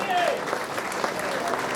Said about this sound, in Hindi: पर जोरदार ताली मुकेश जी के लिए।